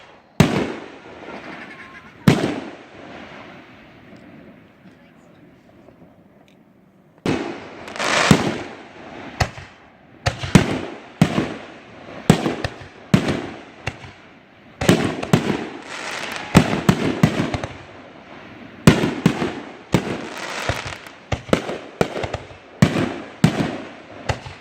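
Fireworks bursting at a private backyard show in Black Earth, Wisconsin, a quiet pause broken by scattered sharp bangs and then dense crackling volleys, moderately distant, with occasional voices in between.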